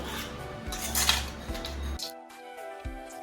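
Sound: boiled pointed gourd being taken off the stove and lifted out

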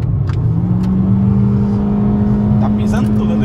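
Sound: turbo diesel Mitsubishi Pajero accelerating hard past

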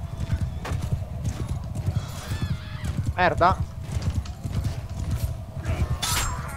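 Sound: horse galloping and neighing in Bannerlord video game

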